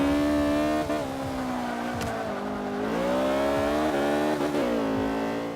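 Race car engine in the Forza 5 video game, droning loudly and continuously as it revs up and down through turns, with brief tire squeal and no speech.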